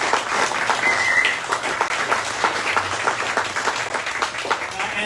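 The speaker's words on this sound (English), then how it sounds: "So give her another round of applause if you would." Audience applause at a foundation's summer closing party, loud and sustained clapping from a large crowd with dense overlapping hand claps, steady from start to finish.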